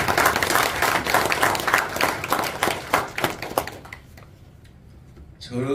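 Audience applause at an organisation's officers' training gathering, a sustained round of clapping that fades out after about four seconds, then a voice begins.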